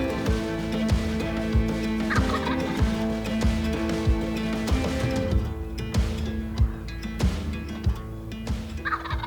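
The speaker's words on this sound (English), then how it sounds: "we heard the first gobble, right where we left him" Wild turkeys, a flock of jakes and toms, gobble repeatedly and loudly at close range, in overlapping bursts near a field with no voices.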